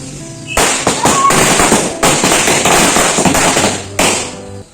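Firecrackers at a birthday celebration go off in a loud, dense crackling burst lasting several seconds, popping rapidly and close by, with a brief gap before the last volley.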